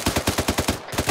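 Machine gun fire in the military game ArmA 3, a fast, even burst of close, loud shots, roughly nine or ten rounds in about a second with a short gap before the last few.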